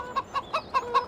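Chickens cluck in the video game Farming Simulator 17, five short, evenly spaced clucks in quick rhythm, clear and close, with no other sound.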